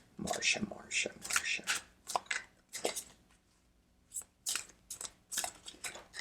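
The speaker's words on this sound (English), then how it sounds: "You don't need to watch me shuffle." A tarot deck, Deviant Moon cards, being shuffled in bursts of crisp riffling and slapping between pauses, close and fairly soft.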